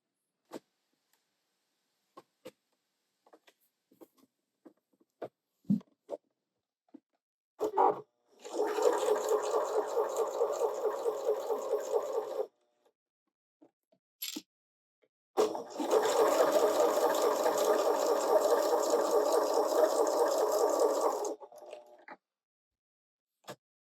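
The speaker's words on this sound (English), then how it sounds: "we're going to sew a 1/4 inch seam starting at the top down to the bottom" Sewing machine stitching a quarter-inch seam on fabric triangles, two sustained runs of rapid motor whirring and needle clatter, each several seconds long, separated by quiet pauses with faint handling clicks.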